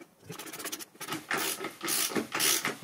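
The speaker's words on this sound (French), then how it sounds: "on va prendre la douille de 21 et on va serrer de façon à comprimer le ressort" Socket wrench with a 21 mm socket cranking a spring compressor on a Mercedes W203 shock absorber, close-up scraping ratchet clicks in short irregular bursts, growing louder toward the end.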